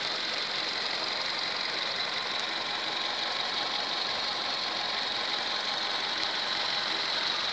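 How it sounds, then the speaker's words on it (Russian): A car engine idles very quietly after an oil change to Pentosin, replacing Castrol, giving a steady, soft, even hum close by with no talking and no change in level. "Шепчет мотор."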